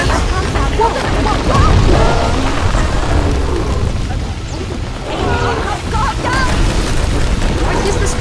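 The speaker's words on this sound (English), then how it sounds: "he's destroying the whole temple" Rumbling, crashing destruction of a temple in the Star Wars PSVR2 virtual reality game, a loud continuous roar of booms and collapsing debris with voices speaking over it throughout.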